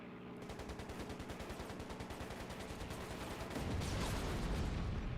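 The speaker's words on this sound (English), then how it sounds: "Anti-air firing at me" Anti-aircraft gunfire in Air Conflicts: Secret Wars, a steady rapid rhythm of heavy repeating shots that runs throughout and grows louder and denser toward the end, with no talk over it.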